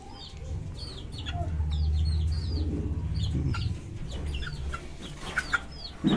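A pair of Polish cap chickens clucking softly and repeatedly close by, short chirpy calls scattered over a low steady background murmur, with no talking.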